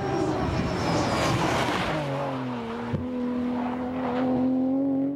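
A Subaru Impreza or Mitsubishi Lancer race car engine roars and climbs in pitch as it accelerates, shifting gears, loud and close with a rushing whine.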